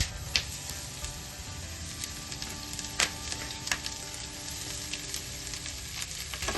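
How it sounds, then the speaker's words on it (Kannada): Fennel, cardamom, black pepper, cinnamon and cloves dry-roasting in a pan, a steady soft sizzle and crackle with occasional sharp pops and stirring scrapes, close and alone. "ಸೋಂಪು, ಏಲಕ್ಕಿ, ಕರಿಮೆಣಸು, ಓಕೆ, ಇದಿಷ್ಟು ಹಾಕೊಂಡು ಅವನು ಹುರ್ಕೊಳ್ತಾ ಇದ್ದಾನೆ"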